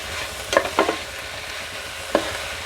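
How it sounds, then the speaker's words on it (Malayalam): Drumstick leaves thoran frying and being stirred in a pan, a soft steady sizzle broken by a few distinct scraping clacks of the spatula against the pan. "എന്നിട്ട് നന്നായി ഒന്ന് ഇളക്കി കൊടുക്കുക"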